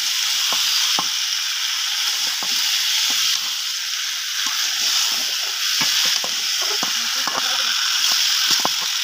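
Beef trotters frying in a pan for haleem, a dense steady sizzle with scraping stirs and small clinks, close and loud, with a voice talking intermittently underneath.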